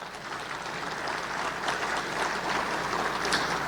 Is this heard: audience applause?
yes